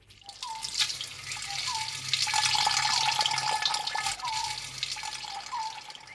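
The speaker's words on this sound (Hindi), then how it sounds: "घर भर की बाल्टियां, बर्तन और घड़े भरते फिरो" Water running from a tap into buckets, pots and pitchers at home, a steady splashing stream with small drips and clinks, moderately near.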